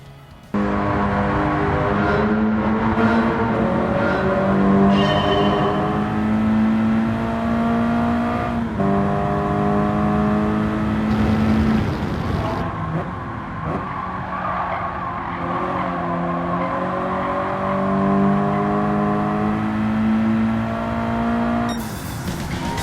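Mitsubishi Lancer Evo IV GSR race car in Gran Turismo 7 on Mount Panorama, engine revving loud and steady with shifting pitch and tire squeal through corners, sustained and close with no talk.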